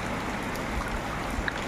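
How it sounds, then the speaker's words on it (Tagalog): Heavy rain falls steadily outdoors as a dense, even wash of hiss with no pauses, loud and close throughout this short stretch. "Lakas ng ulan."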